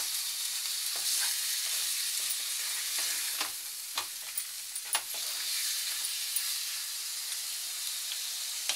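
Ground onion paste goes into hot oil in a pan for an okra chicken dish and is mixed, giving a steady bright sizzle and hiss, with a few soft scraping stirs, close and without talk.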